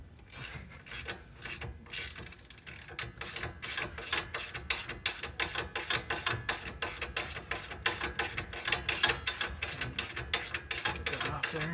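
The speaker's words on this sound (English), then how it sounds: "Go ahead and loosen the bolt on your tie rod end." A ratchet wrench clicks steadily as it loosens the tie rod end bolt on a 2017 Ram 1500 front suspension, with a fast, even run of close, sharp clicks and no talking.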